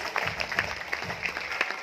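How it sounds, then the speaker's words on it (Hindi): A short burst of audience clapping at a Mumbai seminar session, individual claps distinct within a moderate crowd patter, with faint background music or murmur underneath. "हम तालियां जरूर बजाएं इनके लिए प्लीज"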